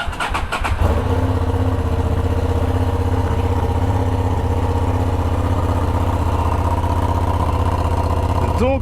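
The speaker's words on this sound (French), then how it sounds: "Bien sûr, on démarre la moto" Motorcycle fitted with an aftermarket Amazon silencer, the engine catching after a brief start-up stutter and settling into a steady, loud, close idle that rumbles on evenly.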